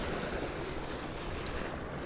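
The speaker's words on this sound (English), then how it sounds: "So that's that water there making that noise." Water laps steadily against the shore beside houses built over the Ashley River in Charleston, a continuous close wash of surf with wind noise and no talking.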